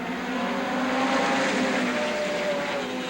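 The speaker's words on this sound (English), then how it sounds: "They're all pretty much specially made midget racing engines." Midget race cars with specially made midget racing engines roar in a steady, loud, continuous pack at Star Speedway during a NEMA race, engine notes overlapping with no break.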